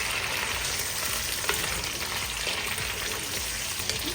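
Venison and fried onions are stirred in a karahi, giving a steady loud sizzle and frying hiss with faint scraping from the stirring and no talking.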